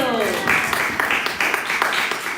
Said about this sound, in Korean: 축하드립니다. 박수!